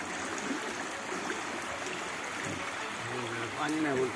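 Waist-deep monsoon flood water in Konkan rushes steadily, a continuous close wash of flowing water that runs under the whole clip, with people talking over it.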